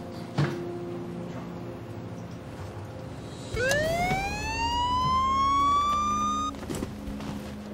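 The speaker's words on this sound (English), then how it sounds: "The car had been equipped with a police siren." A siren winds up sharply and wails loudly for a few seconds before cutting off, with a vehicle engine humming underneath.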